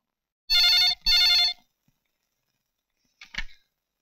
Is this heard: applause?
no